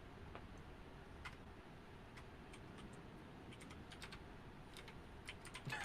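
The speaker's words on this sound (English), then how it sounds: "I can hear the clicks of the keyboard fine" Scattered, faint clicks of a computer keyboard being typed on, spaced irregularly over a steady background hiss, quiet and somewhat distant, with no talking.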